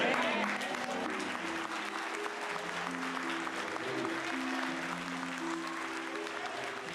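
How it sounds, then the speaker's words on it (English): A church congregation rises in a standing ovation, sustained dense applause from a large crowd filling the room, steady throughout with voices murmuring beneath and a low tonal backdrop. "The whole congregation stands up and applauds Kuhlman, and he gets a standing ovation."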